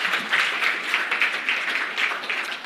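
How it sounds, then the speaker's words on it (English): Audience at a fintech forum panel in Africa clapping for the panelists, an even, moderately loud wash of many hands with a faint rhythmic pulse, lasting a few seconds without speech. "Please give my panel a wonderful round of applause."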